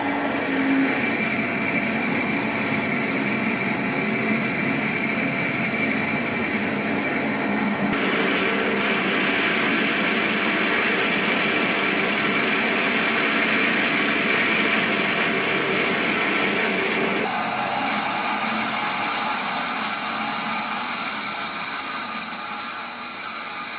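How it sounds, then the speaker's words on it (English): A drill slowly working through metal for a part of a 2-inch scale Fowler Showman's traction engine model, a steady grinding whir with constant machine hum that shifts in tone twice as the cut changes. "I'm just going to slowly build up through the drill sizes."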